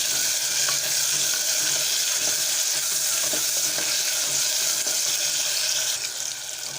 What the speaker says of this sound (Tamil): நல்லா வெங்காயம் தக்காளி நல்லா வதங்கட்டும்